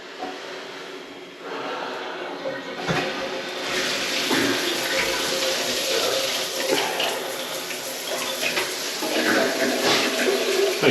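A walk-in shower head running in a house whose water has just been turned back on after winter, a steady close rushing hiss of spray that swells and holds throughout.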